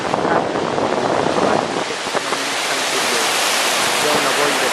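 Sea waves and strong wind roar at Praia da Lanzada beach in Galicia at low tide on a foggy day, a loud, continuous broadband rush buffeting the microphone, with faint talk underneath.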